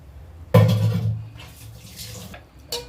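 Coconut milk is poured into cooked pasta for a pasta payasam, a close, steady liquid splash that begins abruptly and trickles off over a couple of seconds.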